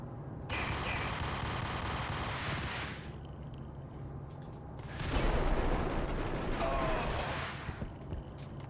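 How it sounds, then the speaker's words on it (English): Gunfire and a booming grenade blast in Max Payne, sustained heavy shooting with a second loud burst of explosion midway, dense and close under constant game noise. "Ah, grenade!"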